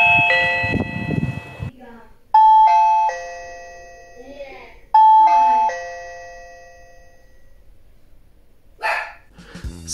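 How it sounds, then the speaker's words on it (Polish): Reolink Wi-Fi 5MP video doorbell chime ringing twice indoors through wooden doors and walls, two loud bright multi-tone chimes with ringing tails, with a dog barking at the start and a brief voice near the end. "czy będzie działał ten dzwonek"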